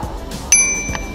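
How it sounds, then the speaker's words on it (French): A single bright ding from a market-bought bicycle bell rings out once, close and clear, over faint background noise, with a quick ringing tail. "Le pays des vélos, il nous fallait une sonnette."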